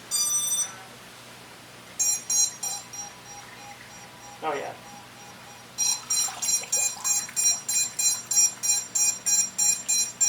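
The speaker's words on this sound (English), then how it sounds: "It's just beeping because my controller's not hooked up." Repeated electronic beeping from an unconnected controller in a steady rhythm, starting in a short burst and then continuing insistently, with a brief spoken remark in between.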